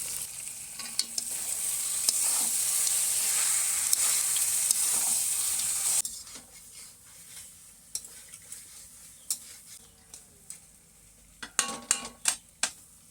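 Mutton curry masala, made with papaya and potato, sautéing in a pan: loud steady sizzling for several seconds, then a quieter simmer broken by sharp clinks and scrapes of a spoon against the pan.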